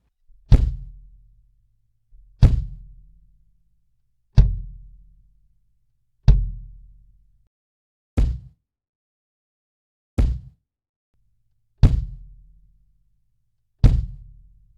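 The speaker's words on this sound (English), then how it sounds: "put a really gritty kick drum at the same time as my acoustic kick" A gritty triggered kick drum stacked with an acoustic kick on a Yamaha hybrid kit hits eight times at a steady, evenly spaced rhythm, each punchy thump decaying quickly into silence.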